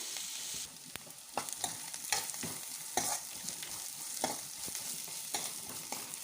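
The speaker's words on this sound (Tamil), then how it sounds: "வெங்காயம் நல்லா வதங்கட்டும்." Onions sauté in a pan with a constant crackling sizzle and frequent scraping stirs of a spoon, close and fairly loud.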